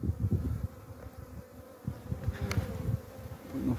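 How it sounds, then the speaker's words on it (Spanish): A colony of wild bees hums and buzzes densely and continuously at close range around the brood combs of a hive being rescued. "Observen, acá hay una colmena completa."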